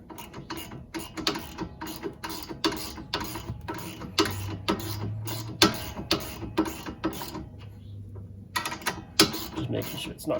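A ratchet tightening the front sway bar end link nut on a Honda Pilot, rapid close clicking strokes in repeated bursts with short pauses, a low hum briefly underneath.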